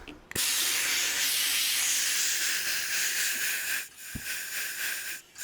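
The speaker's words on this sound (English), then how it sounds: "I've got it on the slow compressor through the tyre machine" A car tyre inflates on a tyre changing machine fed by a slow compressor, a loud, steady close-up hiss of air that runs for several seconds and drops out briefly twice.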